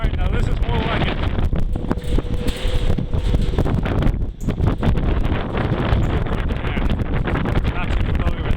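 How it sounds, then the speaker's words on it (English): Strong wind buffeting the top of a mountaintop fire tower on Mt Blue, Maine, a continuous loud roaring rush with gusty swells, microphone buffeting and no distinct pauses. "Yeah, it is a little windy."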